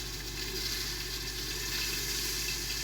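Garlic and ginger paste sizzles steadily in hot oil in a pan, a dense, continuous frying hiss that stays close and loud with no talk over it.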